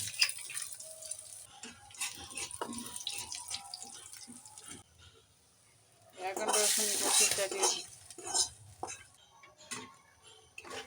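Dried chillies and chopped garlic are tempered in mustard oil with spoon stirring and clinks, then a louder burst of sizzling. Faint talk sits under it.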